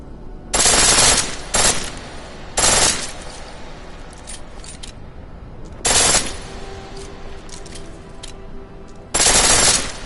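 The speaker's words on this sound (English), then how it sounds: "The pistol in full auto will take down targets fast, but it'll burn through your ammo." A pistol firing on full auto in Deus Ex: Mankind Divided, several loud, sharp bursts of rapid shots separated by quieter gaps with faint mechanical clicks.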